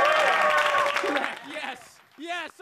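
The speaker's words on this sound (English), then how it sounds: "Can you guys just show up every night and just clap?" A live studio audience claps and applauds in a burst that fades within about two seconds, followed by a short stretch of talk.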